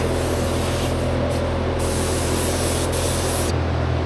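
A steady, loud, continuous hiss of spray paint lays a coat over a truck engine bay, with brief pauses in the airflow and no talking.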